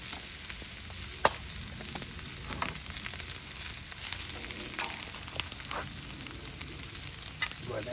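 Chopped onions sizzle steadily on a Blackstone griddle, a dense, continuous frying hiss close by, broken by a few small crackles and pops.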